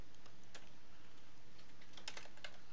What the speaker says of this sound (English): Hit the delete key, hit the enter key